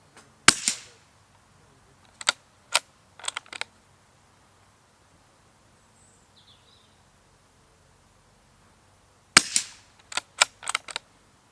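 A Hatsan Escort .22 LR rimfire rifle fires a few sharp, close shots in two separated groups, with quiet stretches between the cracks outdoors.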